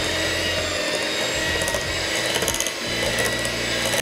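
Vegan chocolate cake batter being mixed, giving a steady, close mechanical whirring that runs unbroken for about four seconds, with a few brief rattling bursts and no talking.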